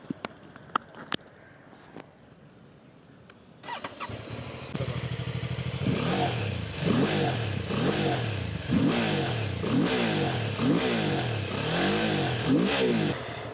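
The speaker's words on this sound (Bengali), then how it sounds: "গাড়িটি এখন নিউট্রালে আছে, আপনাদেরকে একটু সাউন্ডটা শোনাই।" A BMW F450GS motorcycle sitting in neutral idles, then its engine is blipped through a steady series of about eight repeated revs, loud and close, with a few clicks and handling noises before it starts.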